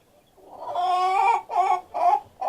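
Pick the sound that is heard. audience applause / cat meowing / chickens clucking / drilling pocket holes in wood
chickens clucking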